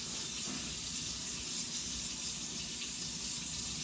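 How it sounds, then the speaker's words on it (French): Cold water running steadily from a kitchen tap into a measuring cup while making pie pastry, a continuous soft hiss of flow with no talk. "Alors voilà, je fais couler l'eau."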